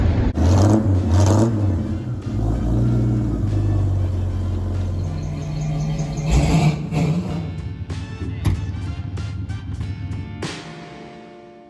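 A Maverick car cruises in a straight line, its engine rumbling and whirring loudly and close, with the pitch rising and falling as it rolls along before easing toward the end.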